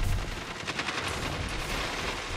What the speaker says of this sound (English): Listen to all those SMGs.